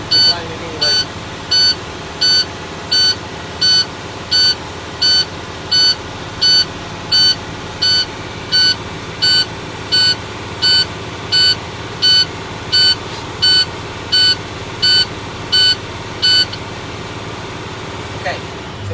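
A truck's warning buzzer sounds in a rapid, regular train of short electronic beeps over a steady idling engine while air brake pressure builds, then stops near the end.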